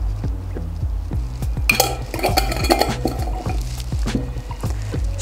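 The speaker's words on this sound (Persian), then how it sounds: "شکر رو هم بهش اضافه میکنیم و حسابی اینا رو با هم میزنیم" A spoon stirs yeast, sugar and warm water in a glass, giving a rapid series of close, bright clinks against the glass with soft liquid swishing between them, alone without talk.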